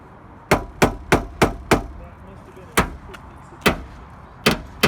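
Someone hammers on a car door lock during a repair: five sharp, close strikes in quick succession, a short pause, then several more scattered blows.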